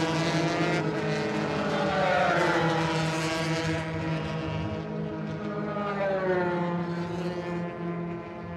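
125 cc sport production motorcycles race at a circuit, their engines screaming loudly and continuously while the pitch rises and falls through gear changes as the bikes pass close by.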